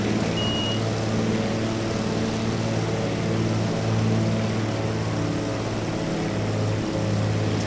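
A propeller airplane engine drones steadily in Microsoft Flight Simulator 2020, a constant low hum with a slight wavering pitch, loud and unbroken with no voices.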